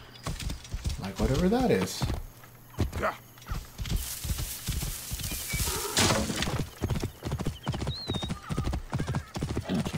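A horse in Assassin's Creed Origins clops along with rhythmic hoofbeats and lets out whinnies, while someone talks over the game sounds.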